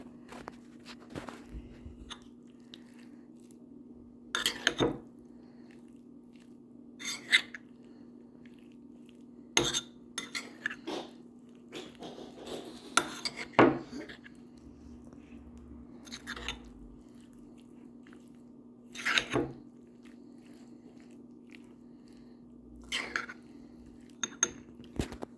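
A utensil scrapes and clinks against a bowl or plate while a meal is stirred, with sparse, irregular taps and clatters over a quiet background hum and no talking.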